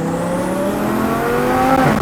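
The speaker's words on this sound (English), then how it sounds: "here's another acceleration from third" A turbocharged sports car accelerates hard from third gear, its engine note climbing steadily in pitch as revs rise, loud and close from inside the cabin, with no talk over it.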